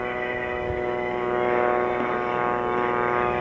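A 500-horsepower Pratt & Whitney radial engine drives a propeller aerobatic plane as it climbs for altitude at an air show, giving a steady, loud, harmonic drone that swells slightly midway and carries no talk.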